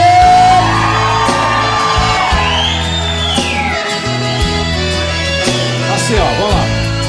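A concert crowd at a show shouts, whoops and cheers loudly and continuously, mixed with band music and a sustained roar of the audience.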